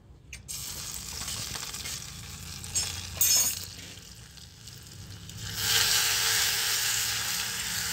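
Asafoetida, garlic and green chillies hit hot oil in a tempering on a wood-fired chula, giving a steady close sizzle that swells into a louder, brighter hiss toward the end, with no talking.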